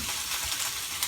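Salmon frying in a pan, a steady broadband sizzle for about a second with no voices over it.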